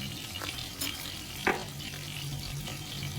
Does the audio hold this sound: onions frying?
yes